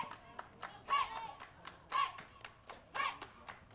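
A softball team bench cheers on a batter at a college game, with rhythmic clapping and bursts of shouting voices at roughly one-second intervals, moderately distant.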